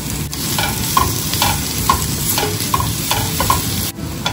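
Capsicum, tomato and green chillies sizzle and fry in a pan, stirred with a utensil: a steady, loud hiss close up with soft, regular scraping taps roughly every second and no voices.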